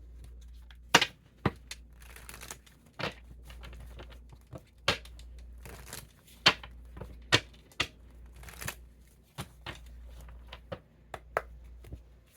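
Oracle cards are handled and shuffled, with sharp irregular snaps, flicks and riffles close by, scattered in bursts over a quiet low hum and no speech.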